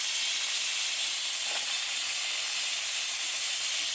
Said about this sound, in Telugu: ఇది మళ్ళీ పక్కన మాంసం ఉడుకుతుందండి